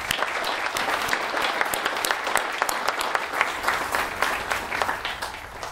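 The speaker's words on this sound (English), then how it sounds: "Let's give him a round of applause." An audience claps at an outdoor names dedication ceremony with a sound system, a sustained, dense round of applause that stays loud and even throughout.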